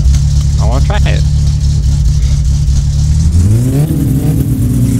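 SR20 car engine in My Summer Car revving at steady high pitch, then dropping briefly and climbing again as it shifts, loud and continuous, with a voice speaking briefly over it early on.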